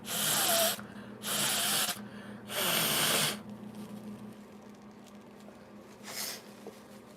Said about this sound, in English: I gotta blow my nose, y'all.